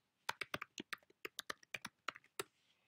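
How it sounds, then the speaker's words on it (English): A burst of roughly a dozen crisp computer keyboard keystrokes, typed in an uneven rhythm, close and clear with no other sound around them. "And after I type my name in"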